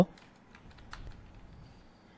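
Light typing on a computer keyboard, a few soft scattered key clicks after an initial tap, faint and close, with no talk.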